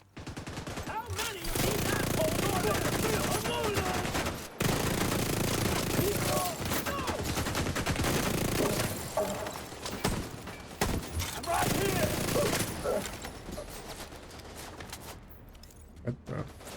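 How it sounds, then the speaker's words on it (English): Heavy video-game gunfire pours onto a turret in rapid, overlapping bursts, loud and nearly continuous for long stretches with a few short breaks, thinning out toward the end under a busy mix. "They're shooting at the turret"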